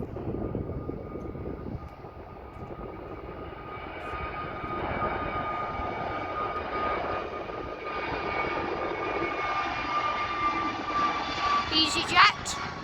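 An EasyJet airliner's jet engines roar steadily at Birmingham Airport, a broad, sustained whine and rumble that swells slightly, with someone talking nearby.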